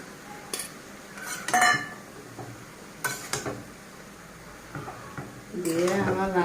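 Pots and utensils clatter and clink in a few sharp bursts as fried dried small fish go into a pan of radish curry, with a faint sizzle and a voice speaking briefly near the end.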